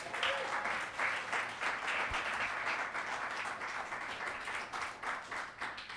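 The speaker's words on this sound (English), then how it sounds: "So I'm going to turn things over to her with a nice round of applause." A lecture-night audience welcomes the interviewer with a steady, moderately distant round of applause that stays even from start to finish without voices.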